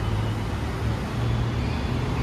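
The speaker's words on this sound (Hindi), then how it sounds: "तो भाई दिल्ली का ट्रैफिक देख रहे हो।" Steady low roar of road traffic in Delhi's Model Town, engines and tyres blending into a continuous dense rumble with no distinct passes, heard from among the vehicles.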